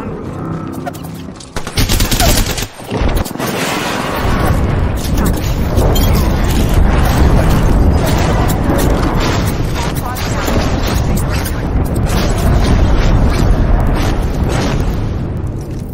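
Airstrike explosions and rapid gunfire in the Apex Legends video game, a dense, loud barrage of booms and shots rolling continuously after a brief quieter opening.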